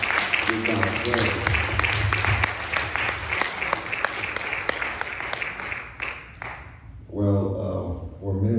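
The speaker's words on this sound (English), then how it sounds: "if you're glad to be here on this morning, come clap your hands." A church congregation claps along in a steady rhythm during a morning service, loud and continuous, with voices and music mixed in and a speaker talking over it near the end.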